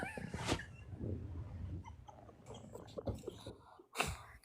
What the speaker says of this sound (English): I got a puppy loose here.